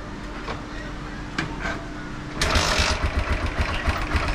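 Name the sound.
Apache RTR 160 4V motorcycle engine running with ticking noise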